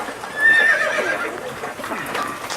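Working logging-camp horses hauling logs on sleds, with a single drawn-out whinny near the start over a busy background of hoof clops and camp bustle.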